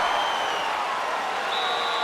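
A UFC arena crowd cheers and roars in a loud, steady wash of noise that lasts throughout, with a faint whistle rising above it near the end.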